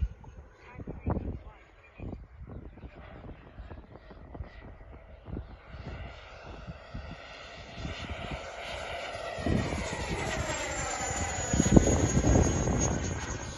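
An Xfly Alpha Jet 80mm electric ducted-fan model jet rushes past at speed, its whine building and sweeping in pitch as it nears, with voices talking nearby and wind buffeting the microphone.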